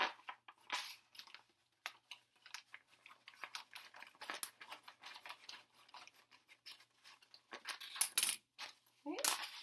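Transfer tape being trimmed for a pine round wooden tray: a run of small, crisp snips and clicks in uneven bursts, close and fairly quiet, ending in a louder crinkle.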